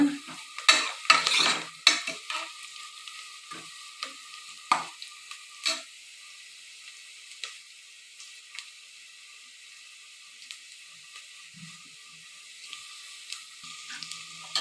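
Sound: onions frying and being stirred in a pan

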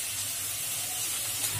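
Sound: onion sizzling as it fries in oil

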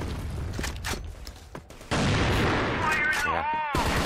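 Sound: gunshots from the CrossFire video game, AK47

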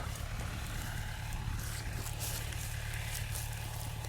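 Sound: tractor-mounted DTZ FN 1.60 mulcher working

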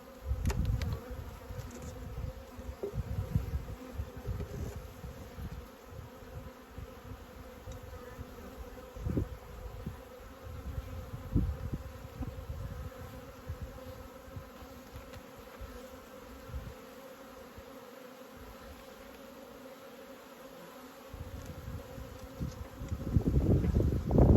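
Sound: honey bees buzzing at a beehive

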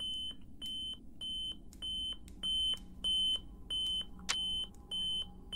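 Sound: alarm beeping in a video game

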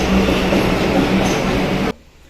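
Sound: Kolkata metro train departing

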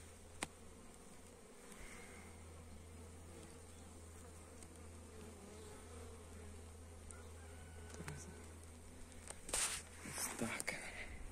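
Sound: honeybees flying in to the hive carrying pollen

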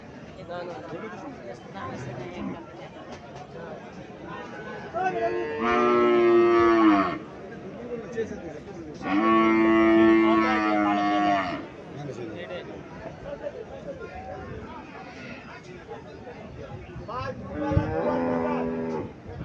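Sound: Holstein Friesian dairy cows at Comilla cattle market

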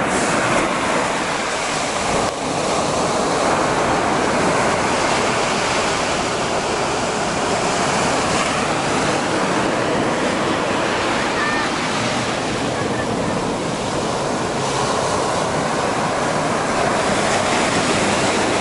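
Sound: sea waves on a beach

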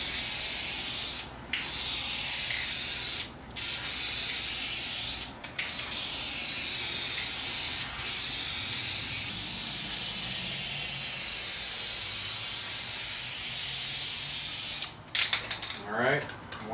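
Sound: spray can painting a Miata trunk lid

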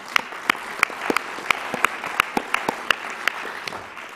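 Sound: conference audience applause

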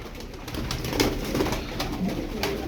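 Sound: flock of tumbler pigeons being chased

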